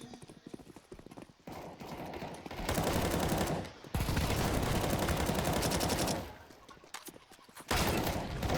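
An M416 rifle fires in a video game in rapid automatic bursts, with several long sustained strings of shots separated by short pauses; the loud, close rattling fills most of the stretch.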